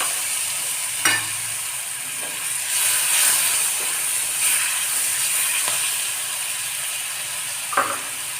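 Green chili and garlic paste with asafoetida goes into hot oil in a pan while cooking pav vada, giving a steady, even sizzle with a few sharp clicks of a utensil against the pan.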